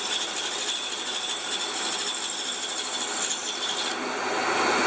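A band saw fitted with a fine-cut attachment slowly saws curved contours, giving a steady, close whirring and rasping drone with no pauses.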